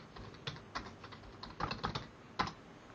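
Keys tap on a computer keyboard at close range as a search is typed, a short run of quick, irregular clicks with small pauses, fairly faint and alone.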